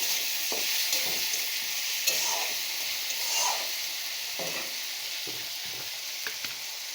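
Chopped tomatoes added to ginger-garlic paste in a pan give a soft, steady sizzle with quiet stirring scrapes, faint and close, with no talk.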